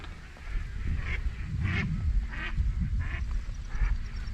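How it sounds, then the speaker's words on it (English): Mallard ducks quack repeatedly in a snowstorm during an opening-day duck hunt, a string of five or six loud nasal calls at a steady pace over a constant outdoor rumble, with no talking. "We are covered in mallards."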